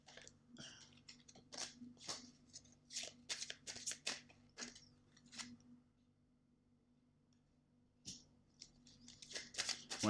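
Oracle cards being shuffled by hand, a series of soft papery riffles and flicks, close and quiet, with a brief lull before more shuffling resumes.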